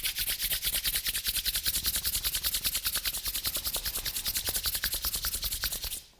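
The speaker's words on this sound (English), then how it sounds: "Rub your palms together," Palms rubbed briskly together during a yoga and breathing class, a rapid steady run of dense scratchy friction strokes, close and fairly loud, continuing for about six seconds before stopping abruptly.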